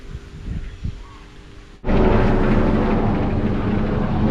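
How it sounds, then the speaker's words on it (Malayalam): A helicopter flying overhead arrives as a sudden loud, steady roar of broadband rotor and engine noise that cuts in over quiet outdoor ambience and holds at full strength. "ഹെലികോപ്റ്റർ."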